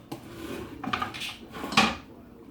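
Beef tipped into a pan for beef stroganoff in a home kitchen: a few close clinks and scrapes of metal utensils against cookware, brief and moderately loud, with no talking.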